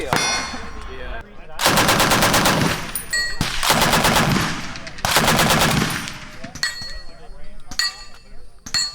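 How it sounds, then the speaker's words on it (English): A full-auto H&K MP7 submachine gun fires at an outdoor shooting range in several long, loud bursts of rapid shots, then a few shorter volleys, with brief gaps and faint voices between. "they brought out a full auto MP7 by H&K."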